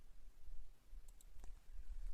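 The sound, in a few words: mouse clicking on a computer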